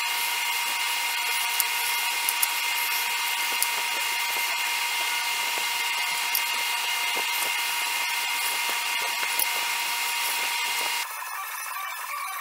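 A grinder whines steadily at high pitch while grinding the bevel of a forged Bowie knife, with a continuous abrasive hiss broken by small clicks, then drops in tone near the end.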